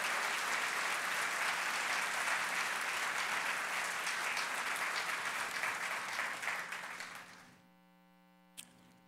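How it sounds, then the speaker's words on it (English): Sustained applause from an audience at a speech honouring an athletic director, dense and steady for about seven seconds before fading out into a low mains hum, with one sharp click near the end. "Let's give him another round of applause."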